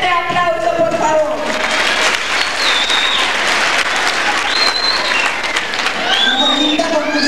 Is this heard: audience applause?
yes